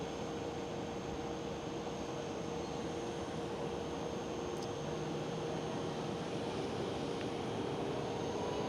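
A KLM Airbus A330 jet at Amsterdam Schiphol gives off a steady, distant broadband roar that holds evenly throughout, with a faint tonal whine on top.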